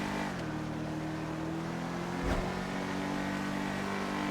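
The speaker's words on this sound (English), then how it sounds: "the sound is pretty good for a stock car" A stock Albany V-STR car engine in GTA 5 Online hums at a steady pitch with a dull thump midway, sounding continuous and fairly close, with no voices.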